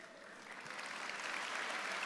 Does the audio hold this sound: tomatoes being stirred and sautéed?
no